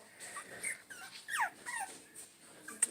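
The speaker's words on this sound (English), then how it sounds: "Dogs are probably hungry." A litter of young puppies about five and a half weeks old whimpers and yips in a kennel, several thin, rising whines overlapping at close range across three seconds, fairly quiet with a sharper squeak at the end.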